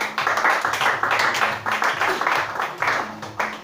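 A church congregation claps together to acclaim Jesus Christ, a loud, steady, rhythmic clapping that runs throughout.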